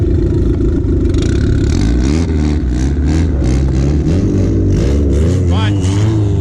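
Honda Civic track car with a reworked camshaft and boost, accelerating hard on a circuit, its loud engine note climbing and shifting through rising pitch sweeps, close and steady throughout.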